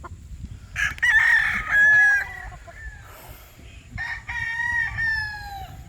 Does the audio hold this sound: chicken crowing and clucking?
yes